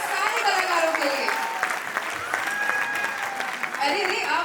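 A theatre audience applauds the cast after a Hindi stage play, steady clapping running throughout with voices and cheers mixed in over it.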